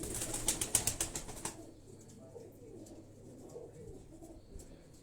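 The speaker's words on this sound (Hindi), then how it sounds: "ये छत वाले कबूतर हैं, बड़े प्योर कबूतर छत वाले।" Rooftop pigeons, a pure breed, coo in low soft calls, with a brief flurry of wing flapping and clatter at the start before the calls settle into a steady murmur.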